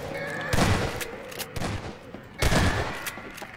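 Bursts of rapid SMG fire in a horror-map video game, two loud volleys about two seconds apart over a busy game soundscape.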